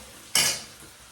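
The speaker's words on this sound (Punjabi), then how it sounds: "ਉਹ ਆਪਾਂ ਤੜਕਾ ਲਗਾ ਰਹੇ ਹਾਂ" Tempering spices for a tadka in a hot pan, a single sudden hissing sizzle that bursts out loudly and dies away within about half a second.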